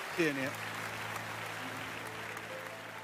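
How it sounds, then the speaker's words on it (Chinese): Audience applause at an archaeology lecture about the Jin Marquis cemetery, a steady wash of clapping from a seated crowd running under a voice speaking briefly at the start. "让我们把掌声和敬意献给他们"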